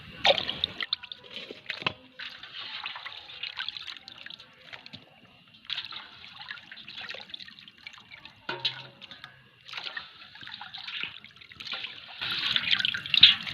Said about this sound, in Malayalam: ഒരു 2-3 വട്ടം വെള്ളമൊക്കെ മാറ്റി കഴുകി വൃത്തിയാക്കാം